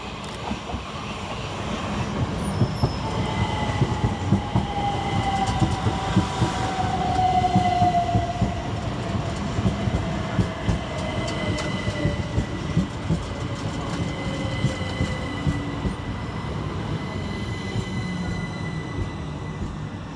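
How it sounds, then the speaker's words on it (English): Two Southern Railway Class 377 electric trains pull into Preston Park station, with a rising and falling motor whine, rhythmic wheel clatter over rail joints and squealing brakes as they slow, heard from the platform. "Next to arrive into the station is 377-448 and 377-130, working the 1119 Southern Railway service"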